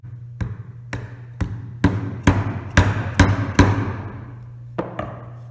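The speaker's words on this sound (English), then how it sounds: "sound of a sharp chisel." Sharp chisel struck to cut a through mortise in wood for Chinese interlocking joinery, a series of about ten loud, close mallet blows in an uneven rhythm over a low steady hum.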